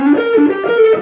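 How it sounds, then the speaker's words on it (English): Electric guitar played through a Behringer OD300 distortion pedal, a sustained, buzzing overdriven tone with shifting sliding notes, close and loud, alone without talk. "then I've also got the OD300 by Behringer here. That's like more of a distortion."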